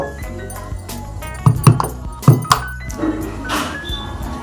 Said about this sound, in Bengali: এবার এক পিস একটু আদা নিয়েছি, এটাকেও আমি থেতো করে নেব